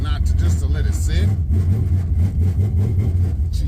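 A Chevy truck with an LS-swapped 4.8 engine and turbo cam idles with a deep, loping rumble, loud and near, while someone talks over it.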